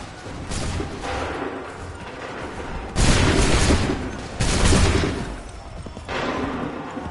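Musket volleys boom out in Assassin's Creed III, several massed rifle salvos in a row, each a loud ragged roar of overlapping shots with a rumbling tail, and quieter musket cracks in the gaps between them.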